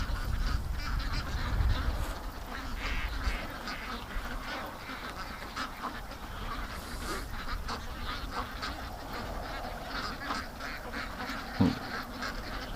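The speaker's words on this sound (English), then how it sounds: "Okay, one duck's got him by the foot, the other duck's trying to pull him." Several ducks quack and honk continuously and fairly close while scrapping over a frog in the water, a dense overlapping chorus of calls with no talking.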